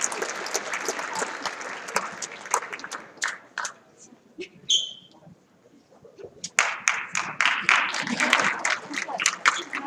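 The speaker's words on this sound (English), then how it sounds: "let's give these gentlemen another round of applause" Applause breaks out at a high school athletic awards night: dense clapping that thins to scattered claps and a near-silent dip, then surges back strong in a full round.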